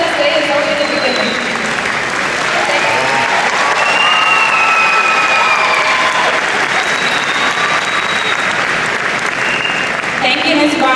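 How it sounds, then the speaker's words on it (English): Sustained audience applause fills a high school graduation ceremony for the Proviso West High School class of 2018, a dense, steady wash of clapping hands holding at full level from start to finish, with faint crowd murmur and scattered voices beneath. "Please give them another round of applause"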